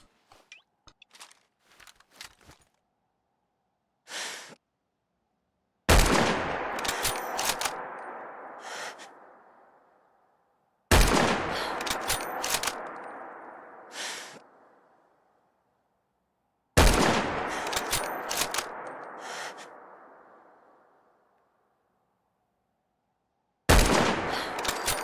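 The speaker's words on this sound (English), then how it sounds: "Trying to shoot just a little to the left of center to see maybe if I can kind of sight my own scope in." Rifle shots from the game Fallout 4, four loud sharp reports spaced several seconds apart, each followed by a long rolling echo, after a few faint clicks and small handling noises.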